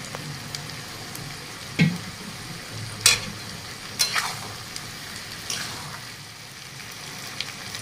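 Garlic fries in a pan with chopped green chillies, a steady soft sizzle broken by a few sharp clinks and scrapes of a spoon, close and quiet with no voices.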